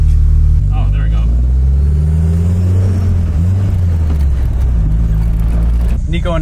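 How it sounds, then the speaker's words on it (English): A Nissan 300ZX engine droning under light throttle as its turbo starts building boost, the low rising engine tone steady and close while someone talks over it. "I can hear the turbo just starting to build boost, and I'm barely on the throttle"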